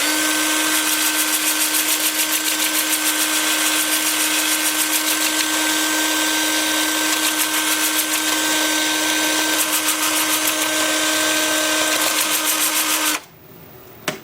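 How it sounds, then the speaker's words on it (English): A wood lathe spins a root ball in reverse at about 350 RPM, a steady loud whine with a constant hum and a fine rhythmic rasp, stopping abruptly near the end with a final clunk. "And then with the lathe spinning in reverse at about 350 RPM."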